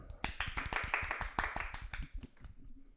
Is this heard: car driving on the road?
no